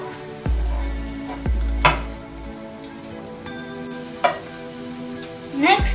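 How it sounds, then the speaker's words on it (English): Ginger garlic paste stirred into egg bhurji frying on a stove at medium heat: continuous sizzle with a few sharp spatula scrapes and clinks against the pan. "now we will also add the ginger garlic paste"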